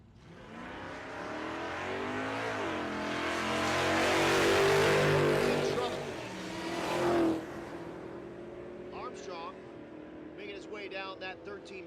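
Drag racing cars run the quarter mile at Tulsa Raceway Park, a loud roaring engine pass that swells and fades into the distance while an announcer talks throughout.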